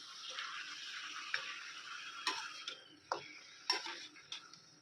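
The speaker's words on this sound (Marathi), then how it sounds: "आणि याला मिक्स करून घेऊ." Mutton is mixed with turmeric and salt in a pot. A utensil scrapes and clinks against the pot in several short, separate strokes over a quiet hiss, close and fairly soft.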